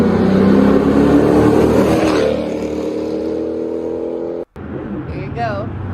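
A car engine revving through its muffler, played back from a recording: a loud, rough exhaust drone with rising harmonic tones that drops back to a steadier hum, broken by a brief cut near the end.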